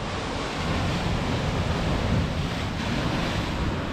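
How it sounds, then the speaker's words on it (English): Large ocean waves crashing against rocks on the Scottish coast, a continuous heavy roaring surf with rumbling low end and wind buffeting the microphone, loud and unbroken, with no speech. "I can see massive waves once again building out here"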